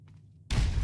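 A grenade explodes in Fallout 3, a sudden loud, broad blast after half a second of quiet, with the roar sustained to the end of the clip.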